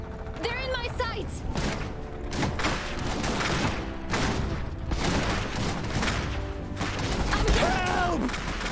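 Bursts of gunfire and clattering machinery fill an Iron Harvest battle, with shouting voices cutting through the racket.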